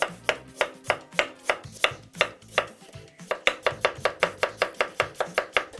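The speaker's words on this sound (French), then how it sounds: "Il nous reste le plus compliqué, c'est couper les pommes de terre." A knife slices potatoes thinly for a Savoyard gratin, landing as a long series of sharp, regular chops on a cutting board, close and clear, speeding into a quicker steady rhythm partway through, with no talking.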